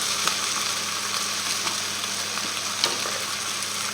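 Mussels sizzle steadily in a hot pan with a dense frying crackle, broken by a few light clicks and scrapes from a stirring utensil.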